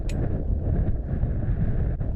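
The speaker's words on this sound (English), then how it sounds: "On the windy moors overlooking Silsden in West Yorkshire" Wind gusting across open moorland above Silsden in West Yorkshire, a rough, broadband rush buffeting the microphone steadily for a couple of seconds, loud and close with no voices.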